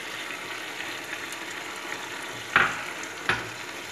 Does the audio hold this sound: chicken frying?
yes